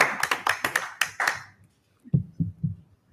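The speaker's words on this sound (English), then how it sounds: "clap for that" A few people at a city council meeting clap briefly, about half a dozen sharp claps in quick succession that die out, followed by a few soft, dull taps.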